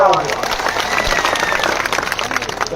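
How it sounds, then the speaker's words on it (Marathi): A crowd at an OBC rally in Gevrai, Beed, claps in dense continuous applause, a busy crackling wash with a voice speaking over it. "एकदा त्यांच्यासाठी टाळ्या वाजवा."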